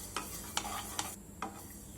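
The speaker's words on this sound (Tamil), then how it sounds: "வெள்ளை எள்ளும் நல்லா பொரிஞ்சிடுச்சு" White sesame seeds dry-roasting in a pan, heard as a faint steady crackle with four sharp scraping stirs spaced about half a second apart.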